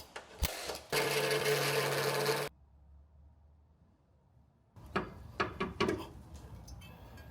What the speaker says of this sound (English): drilling out a circle around just the layer of metal that you want to remove.